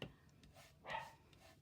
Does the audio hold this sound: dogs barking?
yes